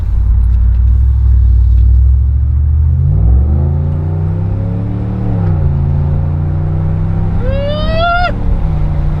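A 5.7-liter Hemi V8 idles with a deep rumble, then revs up and settles back in a steady throttle blip, loud and close, with a brief high whine near the end.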